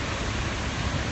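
Rain falls on a New York City street during a protest, a dense, even hiss of drops that stays steady and fairly loud without any voices.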